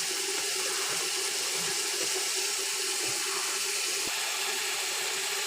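Water goes into a pan of cooked-down tomato and spice masala, making a continuous hissing, bubbling wash with a few small knocks, close and steady, with no voices.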